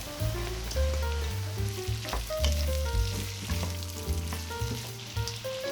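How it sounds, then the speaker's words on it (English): Chopped peppers fry with onions and garlic in a pan, a continuous sizzle running under louder tonal background music. "Cook it for a few minutes and add your chopped peppers."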